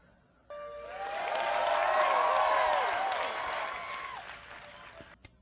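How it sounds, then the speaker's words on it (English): Applause from a crowd on a television show, a broad swelling wash of many hands that rises, holds steady for several seconds and then fades, heard at a moderate distance. "Why are we clapping?"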